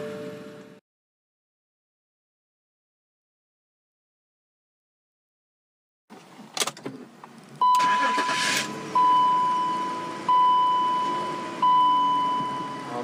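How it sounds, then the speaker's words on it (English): A BMW 3-liter six-cylinder turbo engine starts up after a long silence, with a cranking burst and then a loud running roar. Repeated electronic beeps sound over the engine near the end. "what you're hearing there is a 3-liter 6-cylinder turbo"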